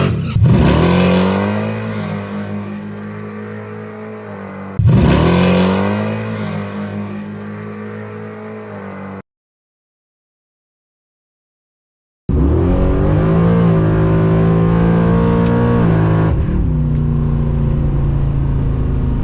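A drag car launches hard and accelerates, engine revving up with a falling-pitch pattern that repeats after shifting into second gear, very loud and close, broken by a brief silent gap before another pass.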